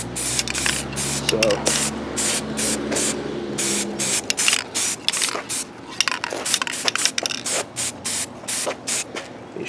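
A spray can lays flat black paint onto a Honda del Sol car in a series of short, sharp hissing bursts, with someone speaking briefly at the start under a low hum.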